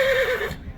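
A young foal neighs at a horse market in Bishkek, a single clear whinny lasting about half a second, close and fairly loud, then dropping to quiet background.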